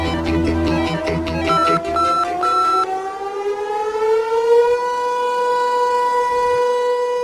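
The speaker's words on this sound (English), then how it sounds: "This siren tests the emergency alert system in the towns surrounding the Vermont Yankee nuclear power plant." A civil defense siren tests the emergency alert system in towns around the Vermont Yankee nuclear power plant, a loud sustained wail that rises steadily in pitch and then holds, alone with no voices, after some brief electronic tones at the start.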